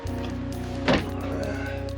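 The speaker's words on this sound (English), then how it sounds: "Let me just open the door." A Volkswagen Caddy van door is opened once, a single short clunk over a steady low engine hum, close and with no talk.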